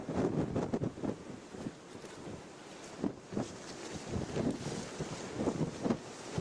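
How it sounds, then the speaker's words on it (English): Strong, gusty wind buffets the microphone on a Scottish mountain ridge below Sgurr nan Gillean, roaring continuously with repeated surging gusts and no speech. "it's very, very windy"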